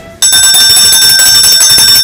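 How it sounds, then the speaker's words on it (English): A school bell rings loud and continuous after a short quiet start, a bright sustained metallic ringing that fills the rest of the clip without pause. "I just love ringing the bell."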